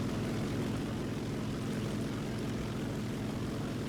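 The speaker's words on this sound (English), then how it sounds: "And the P-38. I think it's a P-38." A P-38 fighter plane's propeller engine drones steadily and evenly in the video game War Thunder, a continuous, moderately loud hum with no break.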